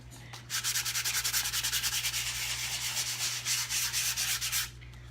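Sandpaper rubbing a small wooden Christmas ornament in fast, rhythmic back-and-forth strokes for a few seconds, close and fairly loud over a low steady hum.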